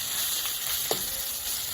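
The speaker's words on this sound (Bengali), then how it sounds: "দুই মিনিট লাগবে একটু মশলাটাকে ভেজে নিতে" Spice paste (masala) sizzles steadily in a pan, a constant bright frying hiss with a single soft stir or pop near the middle, no voices.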